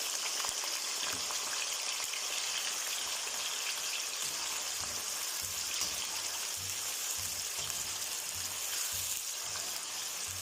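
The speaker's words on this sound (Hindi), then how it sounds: "तो इसी गर्म ऑयल में हम आलू शामिल करेंगे" Potato pieces frying in hot oil make a steady, dense, close sizzle and crackle that runs without a break the whole time, with no voices.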